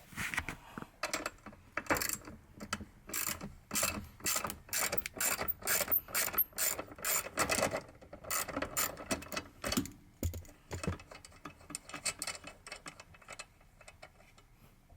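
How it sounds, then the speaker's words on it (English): A ratchet wrench clicks steadily as it loosens a 10mm nut on the hybrid battery of a Toyota Prius C, the rapid pawl ticks coming in bursts close up, with no talking. "You're gonna take a 10mm and loosen that up."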